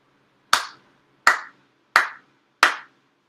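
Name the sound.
four ritual claps at a prayer service altar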